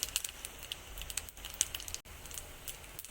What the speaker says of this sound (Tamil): அதோட கொஞ்சம் கடுகு நல்லா பொரிஞ்சோடனே அதோட கொஞ்சம் ஜீரகம், அதோட கொஞ்சோண்டு வெந்தயம்